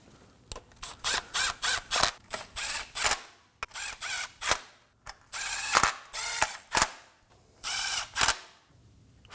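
A ratchet wrench snugs up the oil pan bolts on a 2017-2024 Nissan Armada, with quick bursts of close, crisp clicking in repeated runs separated by short pauses.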